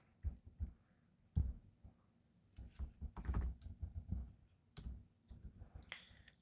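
Keyboard keys clicking in short irregular bursts, close by, with brief pauses between typed runs and no talking.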